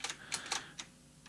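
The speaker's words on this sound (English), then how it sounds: "I mean, it's a mechanical keyboard." A few sharp clicks from a mechanical keyboard, five or six scattered keystrokes at close range, soft and alone.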